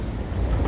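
Wind gusting on the Michigan Avenue Bridge in downtown Chicago, a steady low rumble buffeting the microphone throughout, loud and close with no talk.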